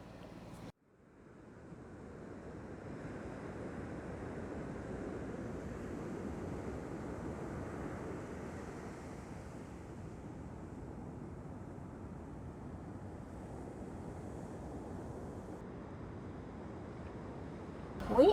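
Surf rolls steadily onto the shore at Yzerfontein on the Western Cape at sunset, a continuous broad wash of breaking waves with some wind rumble, constant and moderately distant, with no voices over it.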